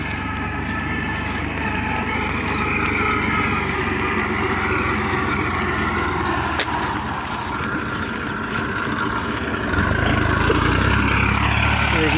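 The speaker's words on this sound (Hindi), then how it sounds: "फिलहाल वो चल रहा है ट्रैक्टर हमारा, ट्रैक्टर भी चल रहा है" A tractor runs in a farm field, giving a loud continuous engine rumble with a droning mid-range hum that stays steady and grows slightly louder near the end, with no talk heard.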